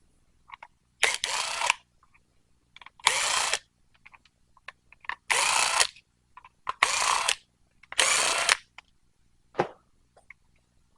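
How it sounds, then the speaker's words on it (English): A screwdriver works a pump apart in five or six loud, close bursts of about a second each, separated by short silences with small clicks and taps between them. "First things first, screwdriver."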